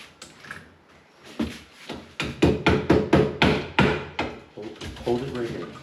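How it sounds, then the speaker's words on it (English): Repeated hammer blows drive a piece into place while a kitchen is modified to fit a new fridge, about eight sharp knocks in a fairly steady rhythm, close and loud, with a little background talk between strikes. "Now we'll just hammer that in just for some structural integrity."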